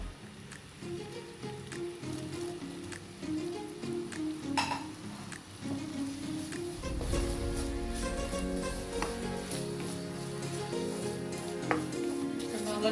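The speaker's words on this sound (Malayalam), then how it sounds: "മെൽറ്റായ ശർക്കരയിലേക്ക് നമുക്ക് തേങ്ങ ഇട്ട് കൊടുക്കാം" Grated coconut is stirred into melted jaggery in a pan: quiet scraping and stirring over a gentle sizzle that grows fuller and louder partway through, with no speech.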